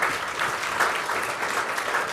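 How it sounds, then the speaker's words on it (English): Steady applause from a conference audience for a business-and-arts panel, a dense, even wash of clapping hands filling the room with no talk over it. "A round of applause,"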